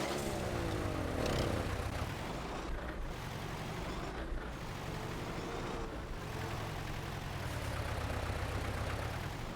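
A steady, low tractor engine in Farming Simulator 22 idles continuously with a rumbling drone throughout, no voices present.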